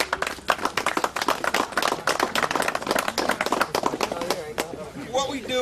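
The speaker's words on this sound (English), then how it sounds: "So I'd really like to give you guys a round of applause." Applause from a modest outdoor crowd at a golf tournament with a police K-9 demonstration, brisk uneven clapping throughout with voices chattering underneath.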